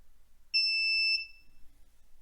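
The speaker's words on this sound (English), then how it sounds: "Okay, so that's the active buzzer." An active buzzer on an Arduino setup, powered from 5 volts, gives one steady, high electronic beep of about half a second that stops abruptly, in an otherwise quiet room.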